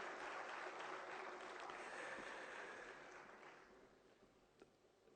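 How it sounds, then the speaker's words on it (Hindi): An audience at a Haryana government good-governance day ceremony claps, a dense, even wash of applause that holds strong, then thins and fades toward the end. "जोरदार तालियां आप सबकी तरफ से"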